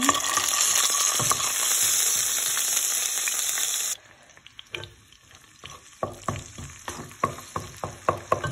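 Ginger and garlic drop into hot ghee with cumin seeds and hiss loudly for a few seconds before the sizzle quiets, followed by a series of sharp spoon knocks and stirring clatters.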